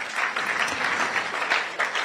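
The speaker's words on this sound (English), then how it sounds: "I thought you would clap for that." An audience claps steadily for two seconds, a dense continuous wash of applause.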